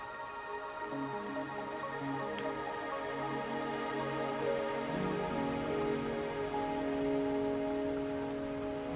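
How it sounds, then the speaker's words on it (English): Rain patters steadily in a Wuthering Waves video game cutscene, a soft, even wash heard alone under sustained tonal music, with no voices. "Are you trapped here by the rain?"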